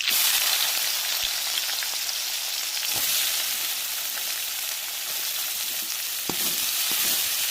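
Chopped onions, curry leaves and dried chillies sautéing in hot oil in a pan, a loud, dense, rain-like sizzle holding steady with a few faint stirring knocks.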